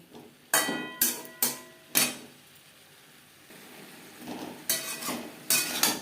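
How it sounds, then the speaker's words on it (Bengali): Cauliflower being tossed and mixed with spices in a pan, heard as a few sharp scraping and clanking strokes of a utensil against the pan, separated by a quieter stretch of faint frying, close up with no talk. "মশলা ফুলকপির সাথে বেশ ভালো করে মিক্সড করে দেবো"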